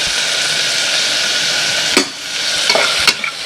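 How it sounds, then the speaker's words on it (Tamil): Onions for a mushroom biryani fry loudly in a pan with a strong, steady hiss close up, and a few spatula scrapes and clinks come near the end. "வெங்காயம் வதங்கிடுச்சு ஆல்ரெடி."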